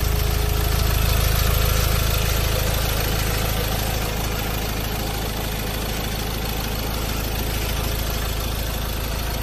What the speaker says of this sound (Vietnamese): Vâng, và đây là phần động cơ đang hoạt động đây. Tiếp tục động cơ hoạt động khá là êm.